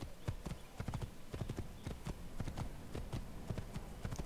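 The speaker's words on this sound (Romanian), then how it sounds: "Hai la galop!" A horse gallops in Assassin's Creed, its hooves striking in quick, steady clip-clop beats close by, forming a continuous rhythmic patter with nobody speaking.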